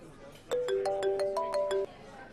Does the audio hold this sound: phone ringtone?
yes